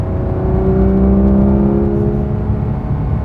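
A car climbing the winding Cherohala Skyway mountain road in the Smoky Mountains, its engine a loud, close, continuous drone whose pitch slowly rises as it accelerates.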